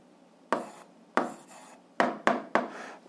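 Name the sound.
handwriting an algebra answer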